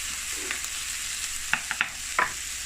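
Minced garlic and a teaspoon of blended seasoning stirred in a hot pan, a steady sizzle under a few sharp scraping clicks of the utensil.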